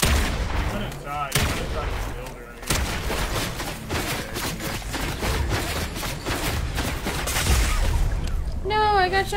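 Video game gunfire in a shooter match, with sharp shots and bursts that crack out repeatedly through the whole stretch, mixed with game noise and some brief voice sounds.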